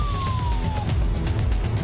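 An ambulance siren wails briefly with a falling pitch amid loud, dense road-traffic noise, then fades out under the rumble.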